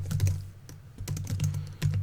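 Rapid typing on a computer keyboard, a close, steady run of light clicking keystrokes in short bursts with a quiet background.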